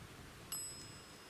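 A small bell on a ghost hunting device rings once with a bright, sharp strike whose clear tones fade quickly against a quiet background.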